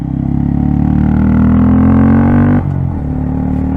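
Honda Grom motorcycle fitted with a loud Yoshimura aftermarket exhaust, running close by with a steady, throaty drone that rises slightly, then drops sharply as the throttle closes.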